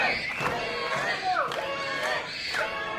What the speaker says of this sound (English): listen to this crowd. They're all chanting his name.